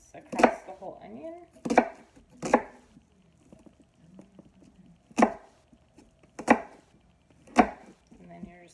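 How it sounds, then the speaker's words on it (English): A knife slices thin strips across a half onion on a cutting board, giving sharp, distinct chops in uneven clusters, about seven strikes with quiet gaps between them. "you want to make little cuts, like thin strip cuts across the whole onion."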